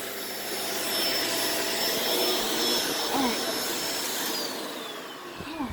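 A new tryit vacuum cleaner runs steadily with a loud, continuous motor whine and airflow roar, close to the microphone, easing off slightly near the end.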